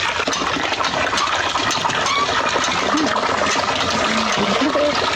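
Water is poured and splashed while someone is bathed, a loud continuous rushing and splattering up close, with faint voices and a few short chirps in the background.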